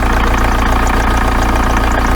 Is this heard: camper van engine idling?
yes